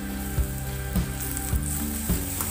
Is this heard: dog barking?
no